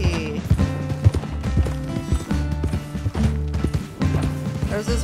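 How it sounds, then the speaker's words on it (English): Horse hooves clip-clop in quick, uneven rhythm in Red Dead Redemption 2, with a loud, close, busy pattern of hoofbeats running throughout. "There's his horse."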